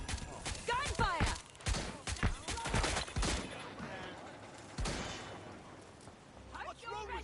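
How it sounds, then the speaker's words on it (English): Gunfire bursts in the video game Watch Dogs: Legion, with rapid shots and pops scattered through several seconds, heard beneath game character voices and radio chatter. "Gunfire!"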